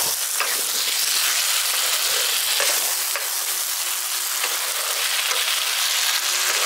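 Fried pointed gourd sautés with spices in a pan, a dense, continuous close sizzle broken by a few soft stirring clicks, with no voices.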